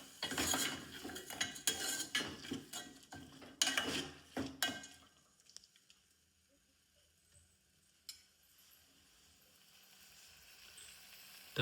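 Khichdi being stirred in a metal cooking pot, a burst of close scraping and clattering utensil strokes for several seconds, then a faint sizzle with one more clink, no voices.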